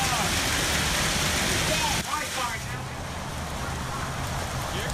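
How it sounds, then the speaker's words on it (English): Hail pours down in Frisco during a storm, a dense, loud, continuous hiss and clatter of ice hitting surfaces that eases slightly halfway through but keeps going steadily. "this is video from Fox 4 viewer Hayden Kong showing hail coming down in Frisco earlier this evening"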